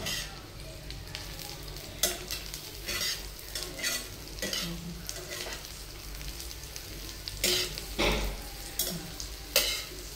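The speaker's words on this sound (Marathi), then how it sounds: "झाले हे फ्राय होते चांगले असे." Alu vadi slices frying in a pan with sesame seeds over full heat, a loud steady sizzle broken by repeated clatters and scrapes of a utensil stirring against the pan.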